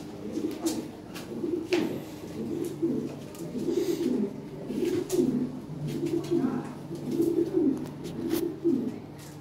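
A pair of yellow Lahore pigeons coo in repeated rhythmic phrases, close and clear, each throaty call rising and falling at a steady pace with faint background noise.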